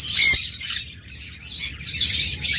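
Pet lovebirds or cockatiels of a local breed call in bursts of shrill chirps and squawks, close and fairly loud, with short gaps between the calls.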